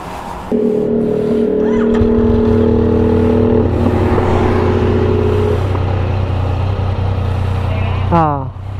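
A car creeps slowly along a road toward the next exit on a temporarily patched flat tire, with a steady low engine and road hum throughout, voices talking over it, and a brief rising squeal at the end.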